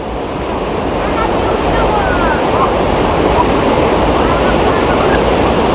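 Water pours steadily over a small check dam waterfall, a loud, unbroken rushing roar that stays constant throughout with no pauses.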